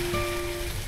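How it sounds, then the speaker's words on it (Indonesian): Light drizzle falls at the Bojongkulur bridge on the Bogor–Bekasi border, a steady soft hiss of rain on surfaces with a faint tonal hum running through it. "Dan ini terlihat nih suasana gerimis hujan"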